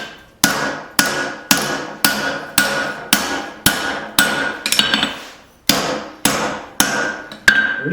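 Heavy hammer blows on a one-inch square steel bar being forged into a drifted eye tomahawk, about a dozen sharp ringing strikes in a steady rhythm, each with a short metallic decay.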